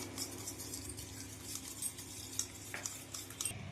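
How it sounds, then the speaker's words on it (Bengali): A batter of water and ground black pepper is mixed in a bowl, producing faint, steady stirring with scattered light clinks of a utensil against the container, all quiet and close. "এবারে জল দিয়ে ব্যাটার বানিয়ে নেব"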